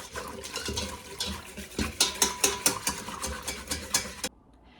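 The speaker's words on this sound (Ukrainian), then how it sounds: "І так замішуємо. Розмішуємо, щоб не було комочків." A spoon or whisk stirs the starter for Easter bread (paska) in a bowl. It makes close, rhythmic scraping and clinking strokes that grow sharper midway and then stop abruptly.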